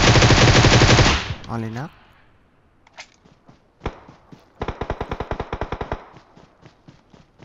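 Automatic gunfire in PUBG Mobile, a loud continuous burst up front, then scattered single shots and a rapid rattling volley, with players talking over it.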